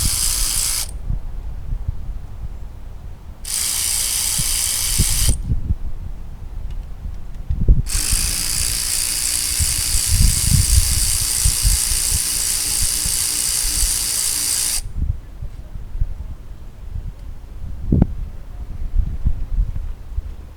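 A power tool whirs in separate bursts while removing the 8mm stator bolts from a Kohler engine, three runs of high-pitched spinning with clanks and handling noise of metal parts between them, close by and without speech.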